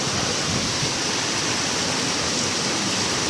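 Floodwater rushing after a flash flood, a steady loud broadband roar of fast-moving water that fills the whole stretch without a break, near and continuous with no voices.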